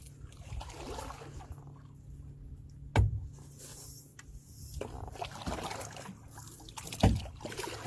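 A canoe or kayak paddled on water late in the day, with soft continuous splashing and trickling and a couple of sharper knocks as the paddle strikes, fairly quiet and close with no talking.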